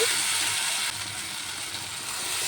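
Water poured into fried spice paste while cooking a spicy teasel gourd (kakrol) curry; a loud, steady broadband sizzle and hiss that dips briefly, then carries on evenly.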